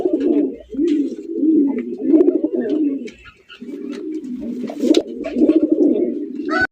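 Pigeons, including a Black Gold Archangel among fancy breeds, coo in low, throaty, continuous rolling calls close by, the overlapping birds forming a steady murmur with brief pauses and light rustles or chirps above it.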